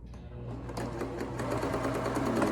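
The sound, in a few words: sewing machine zigzag stitching a neck gaiter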